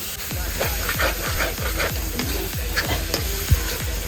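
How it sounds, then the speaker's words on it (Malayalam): A large batch of squid roast with tomato and curry leaves is stirred in a hot pan, giving steady rhythmic scraping strokes over a constant loud sizzle, close up and with no talking. "അപ്പോൾ നമുക്ക് ഒന്ന് ഇളക്കി കൊടുക്കാം കേട്ടോ"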